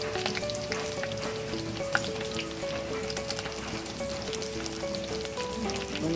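Mustard seeds, fennel and curry leaves sizzle steadily in hot oil, a dense continuous crackle with scattered pops and faint hum beneath, heard close with no talking.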